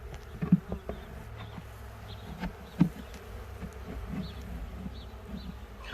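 Honey bees buzzing in an opened box packed with frames, a faint, low hum with scattered close buzzes and a couple of soft knocks near the start.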